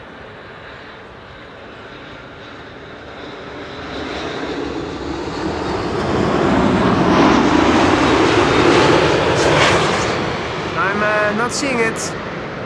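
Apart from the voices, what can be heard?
Boeing 787-9 Dreamliner landing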